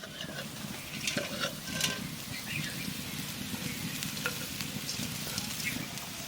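Chili leaves (lanka shak) frying in a pan with continuous crackling sizzle and occasional stirring scrapes, steady and close, with no talking.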